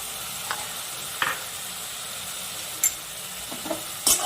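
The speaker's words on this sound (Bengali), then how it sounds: "এবার আমি মশলাটাকে ভালো করে কষিয়ে নিই।" A masala of salt, cumin powder, turmeric and chilli powder sautéing in a pan, with a continuous soft sizzle and a few sharp spatula scrapes and clacks.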